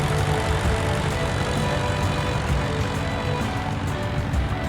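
In Microsoft Flight Simulator, a Black Box light aircraft, an alternative to the Cessna 152, flies near Birr Aerodrome in Ireland. Its propeller engine gives a loud, steady droning roar with a faint rhythmic pulsing, continuous and untouched by talk.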